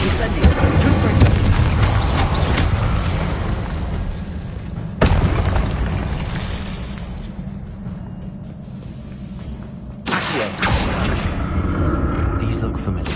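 An explosive Confringo spell in Hogwarts Legacy on PS5 bursts with abrupt booming blasts at spaced intervals, each sharp impact rolling into a low rumble over steady background game sound, with a voice present.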